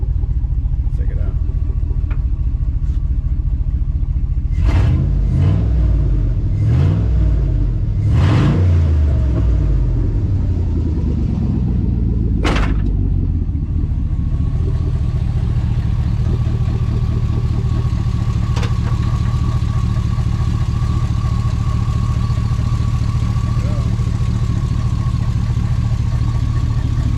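A car engine with no mufflers rumbling loudly up close, with a few sharp revs early on before it settles into a steady, heavy idle.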